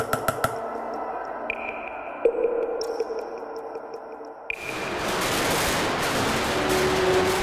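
A few sharp pops and thin whistling tones give way to a sudden burst of dense crackling and rushing noise as fireworks go off at the Fallas festival in Valencia, Spain.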